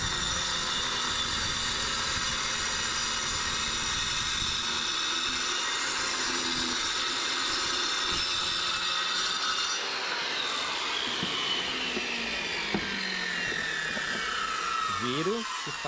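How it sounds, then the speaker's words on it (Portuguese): A power saw cuts through a concrete block, a steady loud grinding whine that holds for the whole stretch, with the pitch shifting partway through as the blade sinks deeper and someone speaks over it. "agora eu vou afundar o corte até onde encostar aqui a proteção da a base da máquina aqui"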